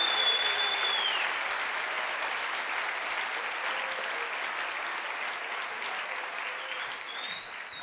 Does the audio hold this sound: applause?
yes